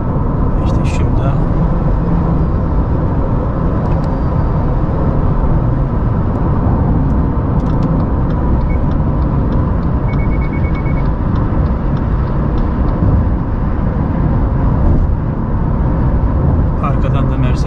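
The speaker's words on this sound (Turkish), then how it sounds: "Yol sesi çok alıyor." Loud, steady road roar fills the cabin of a Subaru XV at highway speed, a dense low rumble with constant tire and wind noise; someone talks over it.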